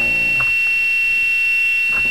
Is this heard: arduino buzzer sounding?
yes